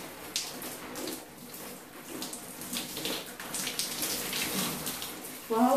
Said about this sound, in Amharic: ተቀባውን ከዋስና ኮንዲሽነሩን በውሃ አጥቋለሁ ማለት ነው